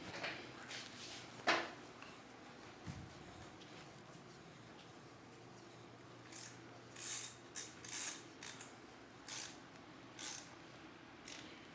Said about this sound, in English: Now you can tighten your pinch bolts.